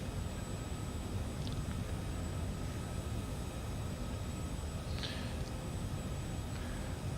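Steady broad engine and cockpit drone of an airliner in Microsoft Flight Simulator 2020, cruising on a Miami to Orlando flight, continuous and even with a couple of faint clicks, no talking.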